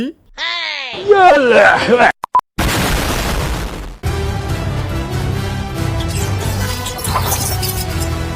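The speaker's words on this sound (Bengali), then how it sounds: "এ কাল্লু, তোর নাকের চিকন বম মেরে দে" A cartoonish nose bomb goes off in a One Piece live-action recap: a short vocal burst, then a loud, broad blast that rolls into a sustained rumble layered with music.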